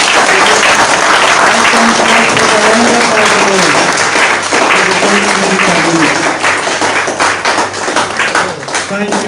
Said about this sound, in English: Big rounds of applause.